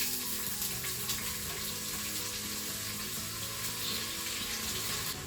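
Onions go into hot oil with mustard seeds in a Crockpot Express, giving a steady, dense sizzle that runs evenly throughout with no talking.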